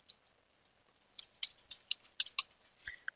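Computer keyboard typing while composing an email in the Mutt terminal mail client: a quiet, irregular run of individual key clicks with short pauses, close and alone.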